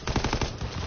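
Rapid machine gun fire from a PS4 video game, a steady burst of evenly spaced shots across the whole moment, loud and close with no talking over it.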